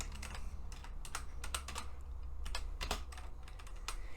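Text is typed on a computer keyboard in a quick, uneven run of close, crisp key clicks with short pauses, heard alone without talk.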